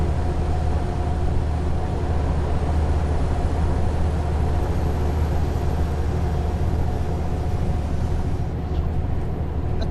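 Wind rushing through a rolled-down truck window in Euro Truck Simulator 2, a steady broadband roar with low engine rumble underneath, constant and unbroken throughout.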